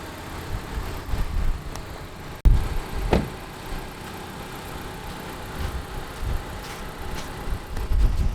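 A lowered Honda Civic with new lowering springs drives around the block to bed in fresh brake pads, its engine a steady mid-level drone from inside the car, with one sharp knock partway through and no talking.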